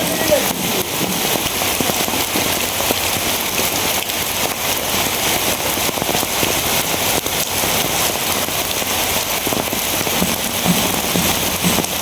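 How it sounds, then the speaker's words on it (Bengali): Heavy rain pours down in a village, a dense, constant hiss of drops drumming on surfaces close by, unbroken and loud throughout. "প্রচুর বৃষ্টি।"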